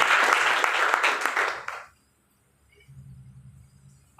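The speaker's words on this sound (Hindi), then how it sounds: "तो एक बार जोरदार तालियां हो जानी चाहिए लाइफ स्टाइल डिजीज के लिए" Dense audience applause rings out at a health and wellness product gathering for about a second and a half, then stops abruptly, leaving near silence with a faint low hum.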